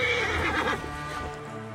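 A horse in Assassin's Creed Origins gives a loud, close whinny with hoofbeats clopping under it, and the neigh fades out over about a second.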